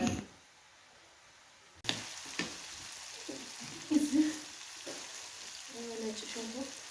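Tomatoes fry in a pan, a faint sizzle that cuts in after a quiet start, with clattering stirring sounds and a voice speaking over parts of it.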